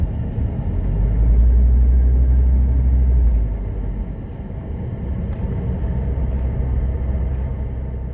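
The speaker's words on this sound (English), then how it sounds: "get it up to highway speed, and test out how she goes on the interstate" A 1979 Mercedes 300SD pulls up to highway speed on an interstate, its engine and road noise a loud, steady low rumble that swells early, then settles into a constant drone.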